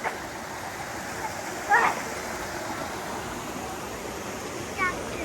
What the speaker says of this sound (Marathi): मंदिराच्या बाहेर डोंगरातून पाणी येते बघा